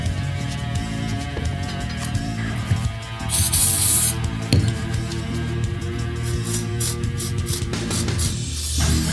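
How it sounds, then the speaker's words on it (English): Brake cleaner sprayed onto a refurbished vintage Tecumseh 5.5 hp mini-bike engine, giving a brief loud hiss of spray over a steady hum and light clinking in a workshop. "I just hit it with a little bit of brake cleaner"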